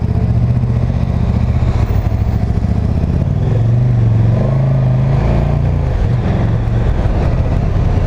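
A 2019 KTM 1290 Super Duke GT on the road, its engine a steady loud rumble with some rising and falling revs and wind noise throughout, no voices.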